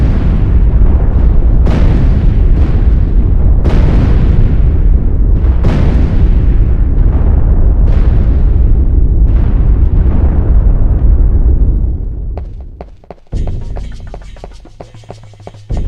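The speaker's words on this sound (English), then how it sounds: "Yeah, that's how explosions work." Explosions in the Castlevania 64 video game boom loudly in rapid succession, roughly every second or two for about twelve seconds, then give way to quieter clanks and a low hum.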